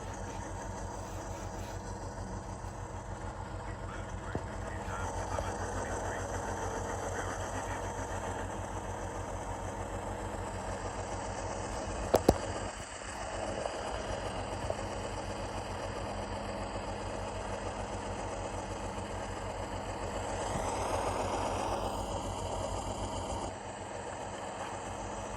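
A GE CW44AH locomotive model with Tsunami 2 DCC sound, an FDL-16 diesel, hums steadily as it idles and revs, a continuous engine drone with a brief sharp click midway and a slight swell in pitch near the end.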